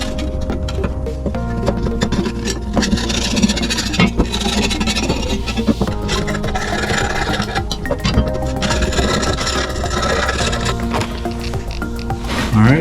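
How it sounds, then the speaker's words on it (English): Old gunk is scraped and rubbed off a lawn mower blade, a loud continuous rasping and grinding with squealing scrapes and a few short pauses, no talking. "doing a little bit of cleaning to get the old gunk off of the blade"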